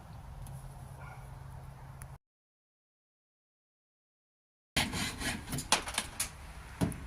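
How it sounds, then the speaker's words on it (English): Screws being trimmed with a saw or file inside a 2003 Toyota Hiace Commuter van build, rough scraping strokes close by, a stretch of silence, then louder, brisker rasping with a few sharp ticks. "just trimming those screws that were in my way"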